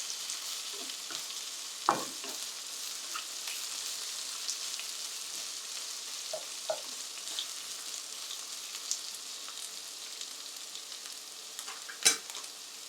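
Eggplant fries in a pan with a steady, soft sizzle throughout, broken by a few brief scrapes and taps as it is stirred, quiet and close with no talking.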